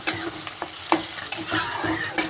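A spatula stirs and scrapes through food sizzling in hot oil in a pan on a gas stove while cooking a Bengali fish and vegetable dish. The stirring comes in irregular close scrapes and knocks over a constant crackling fry.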